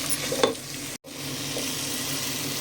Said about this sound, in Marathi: आतां 2 आनियन ते चॉप बारीक चॉप केले. हे बरें आतां 2 मिनटां भाजून घेवया.